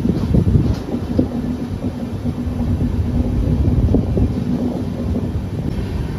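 The Howrah–Digha Tamralipta Express runs with a loud, steady low rumble and rattle, heard from on board with wind buffeting the microphone throughout and no talking.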